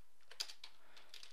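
A few quiet, scattered keystrokes on a computer keyboard, light taps with brief pauses between them, heard faintly and alone.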